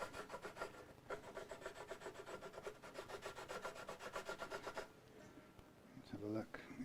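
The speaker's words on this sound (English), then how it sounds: "I've got to do a very small reduction in the first fret action after this, using the my nut slot files" Fine rasping strokes of a small nut slot file cutting the nut slots on a Harley Benton TE90 FLT guitar, a steady run of quick even rubs for about five seconds, close and fairly quiet, then a brief pause and a different scraping touch.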